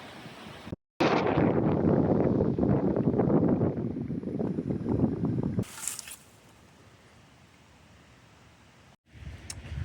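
Strong wind over a lake in Michigan's Upper Peninsula buffeting a microphone in loud rushing gusts, then dropping to a quieter steady blow with brief crackles.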